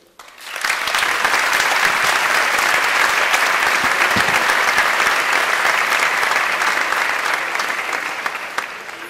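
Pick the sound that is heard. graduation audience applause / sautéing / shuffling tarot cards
graduation audience applause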